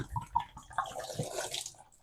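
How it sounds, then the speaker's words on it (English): Hot water at about 90 degrees runs through a Pinter 3 beer dock during cleaning, a soft, fairly faint splashing and gurgling flow that wavers over two seconds with no talk. "That the water coming out of this, just hot water, is now running clean from the dock"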